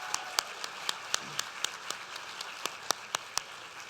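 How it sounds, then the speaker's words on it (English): Crowd applause for a high school mariachi band rolls on steadily, with a few sharp, regular claps standing out above the general patter. "let's give a round of applause to our amazing performers today"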